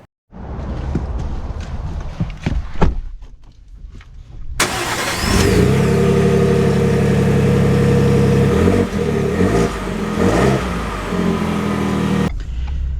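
A 2024 Ford F-150 with the 2.7 V6 engine pulls away after some cabin rustling and clicks, with a loud, steady engine drone rising in pitch over several seconds before easing back, close and inside the cab.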